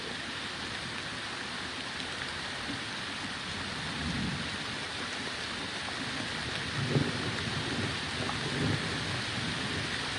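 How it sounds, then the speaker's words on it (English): Steady rain hisses continuously, with low rumbles of distant thunder rolling underneath and no voices. "Of all days that it rains."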